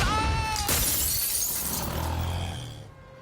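A loud film-style shattering effect, glass crashing and breaking in one burst, its bright debris ringing and scattering before fading out, with no voices.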